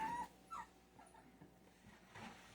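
A young puppy gives a few faint, high whimpers and short whines, with pauses between them, in an otherwise quiet space.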